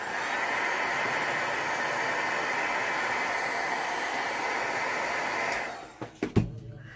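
A hair dryer blows on glitter-coated craft shaker tags, giving a steady, close whooshing hum for about five seconds. It then switches off, followed by a few light clunks as it is handled.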